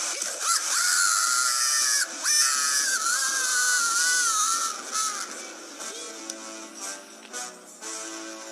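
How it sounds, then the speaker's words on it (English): A cartoon lobster screams in a pot of boiling water in a kitchen, a loud, long, wavering shriek that rises and bends in pitch, then breaks into shorter, fading cries. "that was the first and last time that a lobster has ever screamed"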